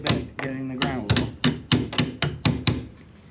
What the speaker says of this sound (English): you push it into the original hole that we made, and you tap just a little bit, get it in the ground a little